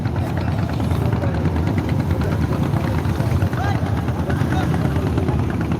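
Several motorcycle engines rumble and idle steadily at a Jadukata river crossing in Sunamganj, where bikes are loaded for ferrying across; a continuous, loud, dense engine drone fills the scene with faint voices mixed in.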